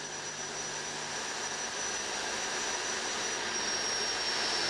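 A Fouga CM.170 Magister jet engine roars through an aerobatic loop, a steady broadband rush with a thin high whine that slowly builds in loudness, no voices heard.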